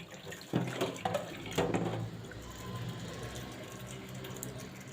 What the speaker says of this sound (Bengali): তো ওখানে যে পটলগুলো ভালো করে ধুয়ে নেব